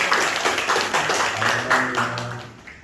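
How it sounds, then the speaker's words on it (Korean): Congregation in a Korean Sunday worship service claps in a steady rhythmic beat, a few seconds of fairly close clapping with a faint voice underneath, fading toward the end. "우리 한번 박수 치겠습니다."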